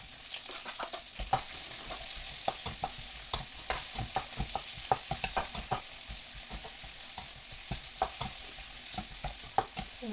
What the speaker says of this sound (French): chauffer le wok, mettre de l'huile. On va mettre les légumes d'abord